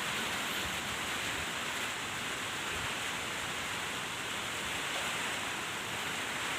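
Heavy, steady rain pours down continuously, a dense loud hiss with no breaks and no voices.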